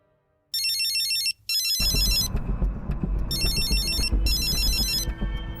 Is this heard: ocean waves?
no